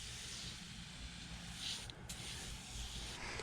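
An aerosol solvent cleaner sprays in a steady, faint hiss that runs continuously with slight breaks, heard close up and without talking.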